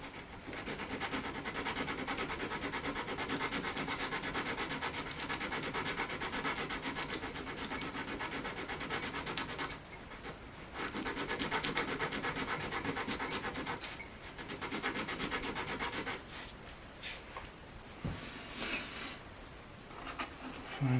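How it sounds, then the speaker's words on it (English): Wood is shaved and rubbed from the neck of a Hagstrom acoustic guitar in close, steady scraping strokes that run for long stretches, with brief pauses and lighter, uneven strokes toward the end. "So this one just needs a little bit more shaving off, and that will be here in the middle."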